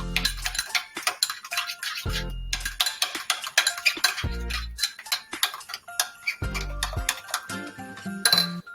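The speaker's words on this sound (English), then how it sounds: "Now give it all a stir." Sriracha mayonnaise being stirred in a bowl, a spoon clinking and tapping against the sides in quick irregular ticks, with a few heavier knocks, close and alone without talk.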